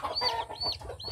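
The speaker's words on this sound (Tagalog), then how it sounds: "Madami na kayong sisiw" Chickens on a farm cluck and chirp in overlapping calls, close by, with high peeping from chicks in repeated bursts over a low rustling background.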